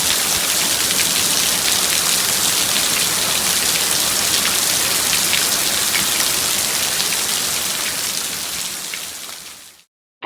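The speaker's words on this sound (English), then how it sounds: "Just listen to that rain." Heavy rain on the coast pours down steadily in a dense, loud hiss with no other sounds, then cuts off abruptly at the end.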